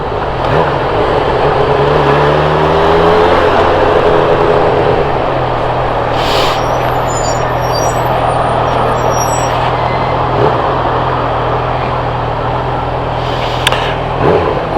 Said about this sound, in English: I do like the sound of this bike.